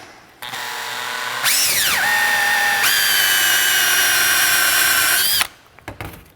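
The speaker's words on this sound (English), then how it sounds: "Just gonna drill that through." A power drill whines up, dips in pitch as it bites into a motocross bike's fork guard graphic while installing a hole shot device, then runs steadily at high speed before stopping; a few clicks follow.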